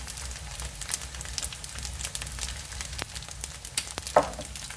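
Cornmeal and oatmeal porridge with cinnamon and mixed spice stirred in a pot: soft, uneven scraping and ticking from the spoon against a low background hiss, with a sharper clink near the end.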